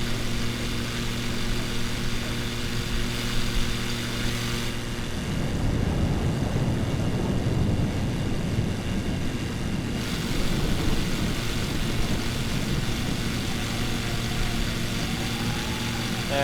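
Steady engine drone of a slow propeller plane flying into a storm, loud and continuous throughout, the tone shifting partway as rougher broadband noise builds up.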